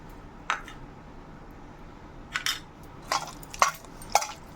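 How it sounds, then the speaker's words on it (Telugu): A spoon stirs milk coloured with food colouring into a chicken marinade for lagan chicken, giving sparse, close clinks and scrapes against the bowl over a quiet background, with no voices. "ఇప్పుడు రంగు కలిపిన పాలు కూడా ఇందులో వేసుకొని కలుపుకోవాలి"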